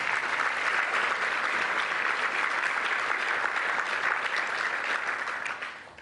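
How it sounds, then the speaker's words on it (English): A crowd at an awards ceremony for ethnic business awards breaks into sustained applause, loud and dense clapping from many hands that holds evenly and then tapers off at the very end. "Please give him a round of applause."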